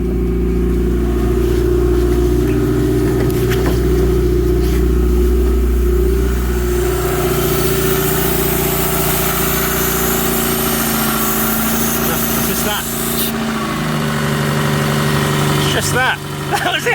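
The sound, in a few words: rebuilt car engine starting and idling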